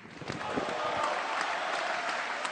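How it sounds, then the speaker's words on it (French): Left-wing members of the French parliament applaud standing in the chamber, a steady wash of clapping heard at moderate distance that holds throughout, with faint murmurs of voices mixed beneath it. "Si la gauche applaudit debout"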